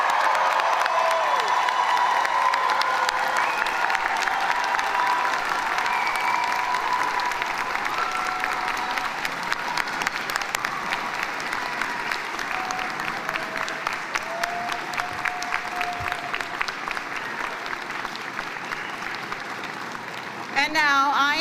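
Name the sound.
audience applauding graduating class at convocation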